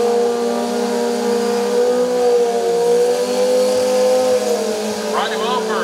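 A Pro Street drag racing motorcycle at a 2021 XDA event drones steadily at high revs, its engine note loud and sustained. A brief rising sweep cuts in near the end.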